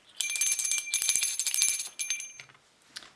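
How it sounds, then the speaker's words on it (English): A small bell rings in quick repeated shakes for about two seconds, bright and close, then a few softer tings as it settles. "I'm going to use my goddess bell for that"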